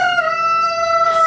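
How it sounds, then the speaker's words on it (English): A rooster crows once on a farm, loud and close, a long sustained call with bright harmonic tones that hold steady for over a second. "Roosters are loud."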